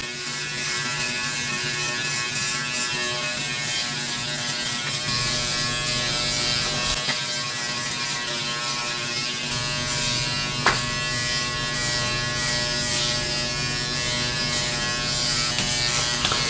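A Philips BodyGroom 1100 electric body trimmer buzzes steadily and close while trimming fine abdomen hair, a continuous motor whine lasting throughout with one brief click.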